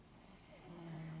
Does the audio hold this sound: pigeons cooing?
no